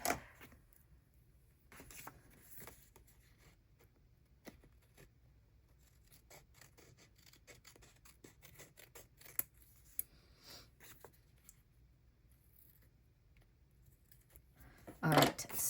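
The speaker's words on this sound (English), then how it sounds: "I'm gonna trim with the scissors just a tiny bit." Scissors trim the edge of a paper journal page in a bullet journal spread: a few soft, close snips and crisp paper cuts at irregular intervals, with quiet handling and rustling in between and a louder scrape at the end.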